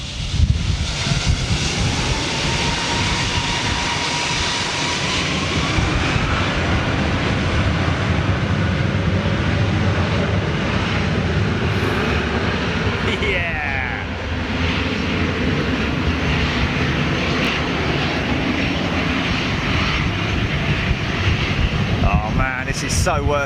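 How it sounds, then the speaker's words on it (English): A Rolls-Royce RB211-powered Boeing 757 roars through its takeoff, a loud, steady jet rumble sustained throughout with wind buffeting the microphone and a voice talking over it. "looks like RB211's powering this. Rolls-Royce power, 757"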